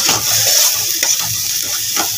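Cumin and spices frying in a pan make a soft, steady sizzle with light stirring scrapes, close and brief, no talk.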